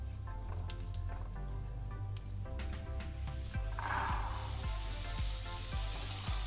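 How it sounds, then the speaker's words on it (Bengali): Boiled chickpeas and peas hit a hot frying pan, and a broad sizzling hiss swells up midway with small crackles, over a steady tonal music bed. "এবার আমি এর মধ্যে দিয়ে দেব ছোলা আর মটর সিদ্ধ করে রাখা।"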